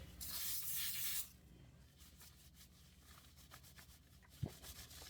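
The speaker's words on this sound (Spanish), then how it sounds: "Ahora le vas a echar aceite en aerosol a los guantes." Aerosol cooking oil sprayed onto latex gloves: a loud, close hissing burst lasting just over a second, followed by quiet rustling and a small knock.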